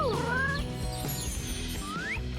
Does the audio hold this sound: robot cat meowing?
yes